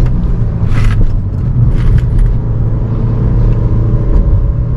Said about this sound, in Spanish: Miren, perfectamente sube el carrito en este tipo de carretera.